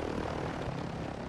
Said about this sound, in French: Mais c'est un avion, c'est un petit avion.